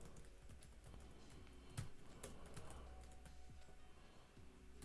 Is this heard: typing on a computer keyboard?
yes